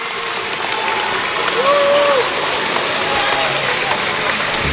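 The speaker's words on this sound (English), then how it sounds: "Big Winterset crowd tonight." A big home crowd at a high school varsity wrestling meet in a gym fills the space with a steady roar of cheering and applause, loud and continuous, with a voice talking over it.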